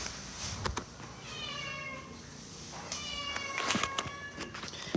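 Several cats meowing in a place housing about forty of them, with drawn-out, wavering cries coming in clusters over rustling and footsteps, some calls near and loud.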